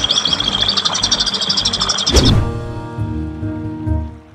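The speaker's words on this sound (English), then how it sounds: "The Javan Pied Starling is a bird that is widely bred." Javan Pied Starlings in an aviary give a busy stream of bright, rapid chirps and whistles, broken by a short harsh burst, then lower scattered calls over a background patter.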